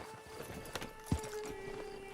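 Horse hooves clip-clop faintly on the ground in a Wild West setting, a few scattered knocks with a low background hum and a brief snort-like sound.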